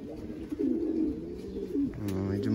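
Racing pigeons coo in their loft, with soft rolling low coos close by and a brief higher sound near the end, no clear talk over them.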